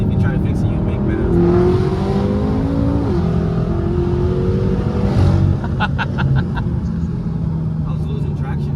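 A 700HP BMW M6 Gran Coupe accelerates hard, its engine roaring loud and close as revs climb steadily through gear changes, ending with sharp crackles and pops.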